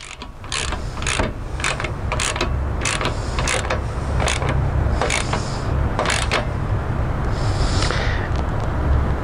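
Metal bolts being threaded in and tightened by hand, a steady run of close, sharp ratcheting clicks, about a dozen in a row, over a constant low background hum.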